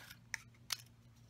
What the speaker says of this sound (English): I cut the black label